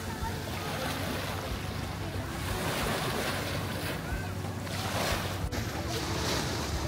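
Surf rolling onto a beach in Boracay, a steady broadband wash of waves with gusty wind across the microphone, continuous and fairly close throughout, with no talking.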